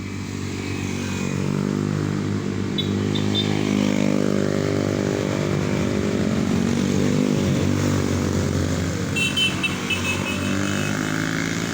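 A motorcycle runs steadily along a street, its engine drone holding loud and close for the whole stretch, with faint brief higher tones surfacing now and then in the background; no one speaks.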